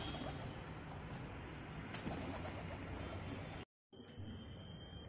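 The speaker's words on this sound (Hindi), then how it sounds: "तो दूसरा वाला कबूतर भी आ चुका है यहाँ पर" Pigeons on a house rooftop, soft low cooing under steady outdoor background noise, with a brief cut to silence near the end.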